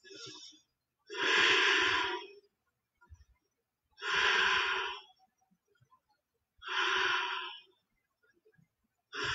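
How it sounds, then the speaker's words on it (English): Deep, slow breaths during a yoga session, three long breathy bursts of a second or more each spaced by quiet pauses, close and fairly loud with no talking. "Four more breaths."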